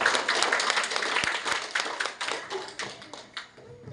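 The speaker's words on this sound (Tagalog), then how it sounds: "minsan pang palakpak para sa sagot na yan" Audience applause at a wedding ceremony, a dense wash of many hands clapping steadily for several seconds, with sharper individual claps standing out near the start before it gradually thins.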